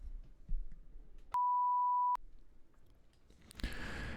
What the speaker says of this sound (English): After the beep, please record your question.